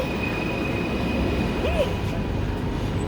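An LRT/MRT commuter train rolls into a station with a steady loud rumble, a brief rising wheel squeal midway and a faint electronic tone, close by and continuous throughout.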